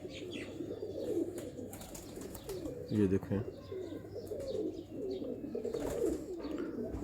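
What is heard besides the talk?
pigeons cooing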